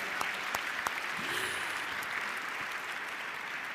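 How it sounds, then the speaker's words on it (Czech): Sustained applause fills a gala evening at Prague's Municipal House, a dense, even wash of clapping that carries steadily from start to finish with a few sharper individual claps near the front. "To je na potlesk."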